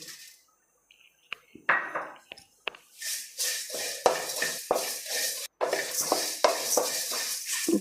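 Cinnamon, cardamom, cloves and curry leaves dry roasting in a pan, with a utensil stirring and clinking against the metal in irregular bursts and a dry rustling crackle between strokes.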